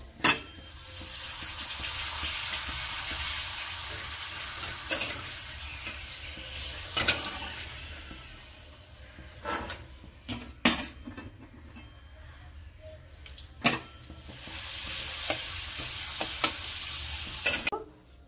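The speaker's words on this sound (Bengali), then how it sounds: "এখানে দেখো গরম গরম তেলে মা এখন পাঁপড়গুলো ভেজে নেবে" Papads frying in hot oil, a steady loud sizzle that swells and fades, broken by sharp clicks and scrapes of utensils against the pan, with no talking.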